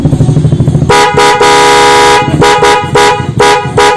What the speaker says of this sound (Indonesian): Kita tes untuk suara klakson Denso nya, cukup mantap sekali ini suaranya